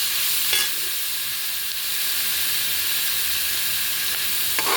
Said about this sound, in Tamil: நல்லா இந்த தக்காளியெல்லாம் கொஞ்சம் மசிகிற அளவு கொஞ்சம் வதங்கட்டும்